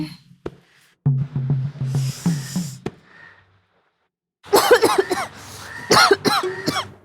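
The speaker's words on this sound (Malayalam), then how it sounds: "ഒരു ചുമ." A person coughs and clears the throat in a few short, close bursts, followed after a pause by a dense run of louder harsh coughs and strained vocal sounds.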